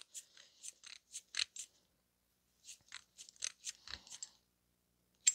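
A torque wrench set to 70 clicks off while lug nuts on a wheel are tightened, sharp metallic clicks and ratcheting snaps coming in two quick clusters with a short pause between, close and fairly quiet, plus one last click at the end.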